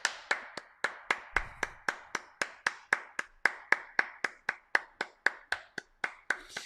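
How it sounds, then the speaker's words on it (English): Sharp single hand claps in a steady, even rhythm, about three per second, close and distinct with no voices over them, set to a line-dance call. "Clap your hands."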